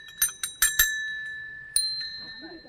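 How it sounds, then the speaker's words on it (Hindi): Small metal bells rung at a Hindu temple, four quick bright strikes followed by a longer ringing tone and one more strike, close and clear, decaying into faint background noise. "यहाँ पे घंटियाँ भी हैं।"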